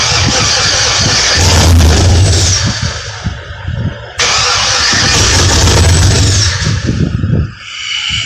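A 1981 Oldsmobile Cutlass Calais fitted with an LS3 6.2 V8 and a 6L80E transmission cranks over on its first startup attempt. The starter churns in two loud, sustained bursts with a short pause between them, and no voices are heard.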